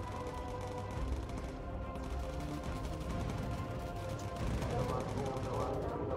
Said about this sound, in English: Nice shooting, Barnett. Damn nice shooting.